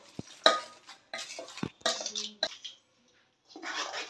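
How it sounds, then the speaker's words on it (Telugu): A metal spoon stirring tempering into cooked rice for lemon rice, giving several sharp clinks and scrapes against a vessel separated by short pauses, close and fairly quiet. "ఇప్పుడు ఈ తాలింపును మనము రెడీ చేసి పెట్టుకున్న రైస్ లోకి యాడ్ చేసుకుందాము"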